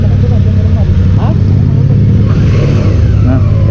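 A Suzuki V-Strom 650 motorcycle engine runs loud and close with a deep, steady throbbing rumble and slight rises in revs throughout.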